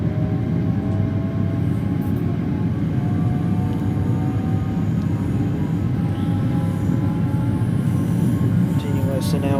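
Talent 2 electric multiple unit rolling on the Dresden S-Bahn in Train Sim World 2, a steady loud rumble of wheels and traction motor with rising whining tones, continuous and close.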